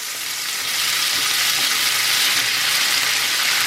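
Tomatoes hit a hot pan with onions and break into a loud, dense sizzle that swells within the first half second and then holds steady and close.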